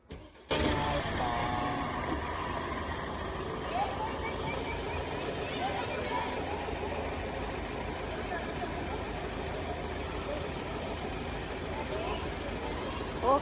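A family car pulls away from a home, its mid-pitched engine running steadily and fairly close for over ten seconds, with voices talking over it throughout.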